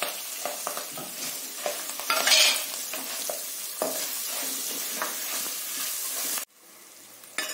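Dried red chillies, green chillies and curry leaves fry in hot oil as a tempering for tamarind rice, sizzling steadily under repeated stirring and scraping of a utensil, with a brief louder spatter midway before the sound cuts off.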